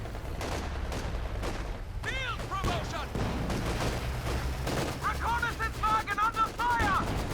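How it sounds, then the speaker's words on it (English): Machine gun fire in a Company of Heroes match, with a Vickers gun among the weapons, rattles in rapid bursts amid scattered battle shots and whistling effects, with a caster talking over the action. "Squad gets suppressed, trying to crawl out of the arc of the machine gun."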